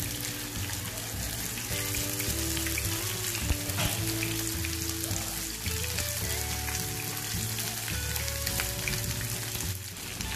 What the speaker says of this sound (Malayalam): ഇനി ഇതിലേക്ക് നമുക്ക് ഫ്രൈ ചെയ്യാനായിട്ട് മീൻ എടുത്ത് വെക്കാം.